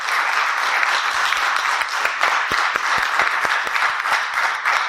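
Audience applause at an evening talk event with invited speakers, a dense, steady wash of many hands clapping throughout, fairly close and loud, with a few sharper individual claps standing out and no speech over it.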